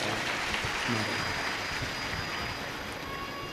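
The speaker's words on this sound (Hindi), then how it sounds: "एक बार जोरदार ताली बजाएं साथी।" Large audience at a live Hindu Shiv Mahapuran religious discourse claps heartily, a steady, rain-like wash of applause filling the whole stretch, with a voice faintly underneath.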